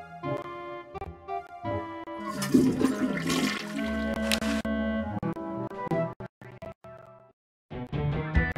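A toilet flushing in the adventure game Day of the Tentacle Remastered, a cartoonish rising gurgle and rush of water swelling loudly in the middle, then tailing off into short plops and a brief silence before a final burst.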